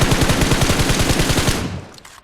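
Rapid automatic gunfire from shooting enemies in the mobile battle royale game BGMI, a loud, fast rhythmic burst of shots that fades out near the end, with no talk over it.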